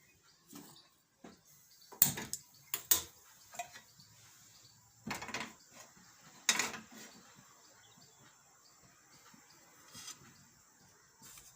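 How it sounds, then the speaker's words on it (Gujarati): A household gas stove is switched on in a home kitchen while drumstick soup is prepared, with a few sharp clicks and knocks spaced over several seconds against a quiet room and no talking. "ગેસ આપણે ચાલુ કરશું"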